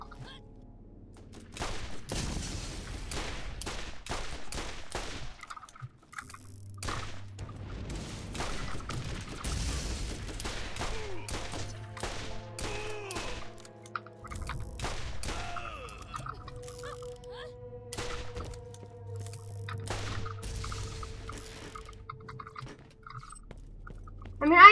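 Gunfire aimed at a psycho enemy in the Borderlands video game, a run of sharp, loud shots in quick bursts, some rapid and some spaced apart, over a low droning game background.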